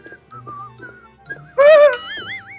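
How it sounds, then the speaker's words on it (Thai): A person whistles a clear, loud wavering tune lasting about a second in the middle of a Cyphers gaming session, with quieter tonal game sounds and faint background noise before and after. "อย่ผิวปากดิเฮีย"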